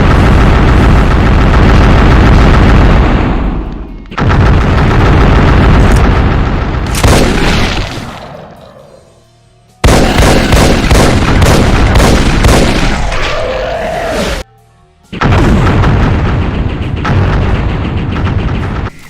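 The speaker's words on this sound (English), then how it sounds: "It can fire a volley of Hellstaff shots, which is like the magic substitute of the plasma gun" In a DooM mod video game, a rapid volley of magic Hellstaff shots fires in long, dense, loud bursts with brief gaps between them, a continuous booming roar of overlapping blasts.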